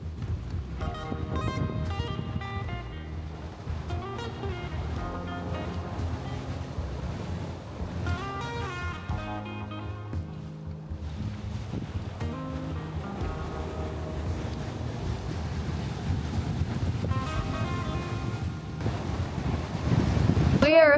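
Steady wind rushing over the microphone with waves washing against the hull of a sailing boat at sea, a continuous mid-level wash of noise with faint tonal background sounds throughout.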